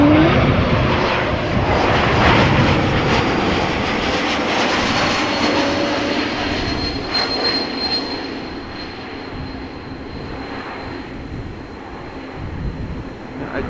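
An airliner arriving from Hamburg lands at Amsterdam Schiphol Airport, its loud engine roar and rushing noise filling the air, then slowly fading and thinning while a faint high whine lingers.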